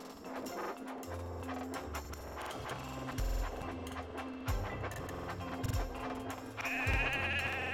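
Sheep bleat in a Thomas & Friends train video game, mixed with busy game music and mechanical effects, with a brighter sustained sound rising near the end.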